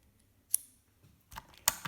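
A screwdriver bit slips on a stripped screw in a Microlife pulse detector during a teardown, giving a few sharp, close clicks separated by short pauses.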